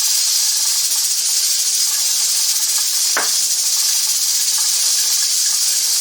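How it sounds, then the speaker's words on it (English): Stuffed pepper rice mixture simmering in a pan gives a steady, even hiss and sizzle for the whole stretch, with one brief louder clink or stir partway through. "I'm going to simmer this for about 10 to 15 minutes"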